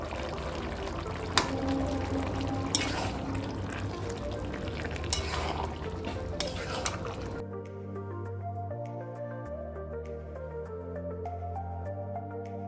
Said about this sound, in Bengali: এদিকে কিমাটাতে ক্যাপসিকাম কুচি দিয়ে দেওয়া হলো